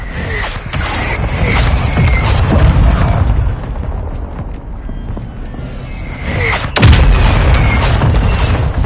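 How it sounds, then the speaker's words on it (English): Mortar strike explosions in Warzone 2.0 gameplay, a dense run of heavy booming blasts rolling one after another, loud and close, with one sharp impact near the end. "Mortar strike inbound now."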